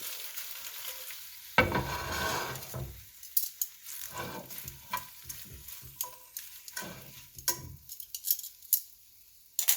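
Vegetables for Korean bibimbap fry in a pan. A sharp burst of sizzling starts a moment in, then settles into softer crackling broken by stirring clicks and scrapes.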